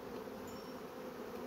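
Honeybees buzz steadily around an opened hive frame during an inspection, a continuous low drone of many wings close by, with no voices.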